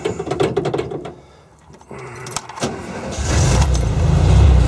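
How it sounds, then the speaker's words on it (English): VW T2 camper van engine starting: clicks and jangling, then a brief lull before the air-cooled motor catches and settles into a loud, rising idle rumble close by. "I'm going to start it up now."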